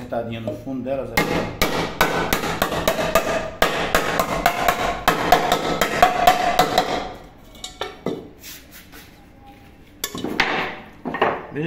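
A hammer strikes the bottom of a tall saucepan to straighten out dents, with rapid loud metallic blows in quick bursts, a brief lull, then more strikes, close to the listener and without speech.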